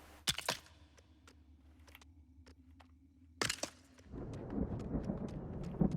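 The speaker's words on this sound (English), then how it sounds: "Uh-oh, thunderstorm." Thunder rumbles and cracks in a LEGO Fortnite game storm, two sharp loud claps over a low steady drone, followed by a sudden burst of dense rain-like noise.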